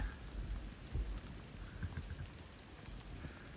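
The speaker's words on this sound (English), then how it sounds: "How much rain did we just get?" Steady rain patters on a tent with a soft, continuous hiss, faint and unbroken, with no voices.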